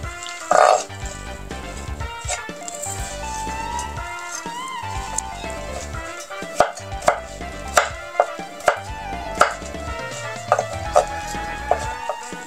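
A knife chopping vegetables on a board for Japanese-style salad and soup prep, heard as close sharp taps, loose at first and then a steady run of crisp strikes, with kitchen background sound.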